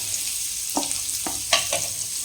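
Butter sizzles in a pan while a bread pizza sandwich fries, a steady close hiss broken by a few light scraping and tapping knocks from turning or stirring, with no talking.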